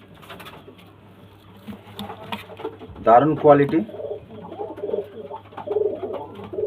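Pigeons at a bird-sale yard coo in deep, throaty bursts, loud and close after a quieter start, while someone talks over and between the calls.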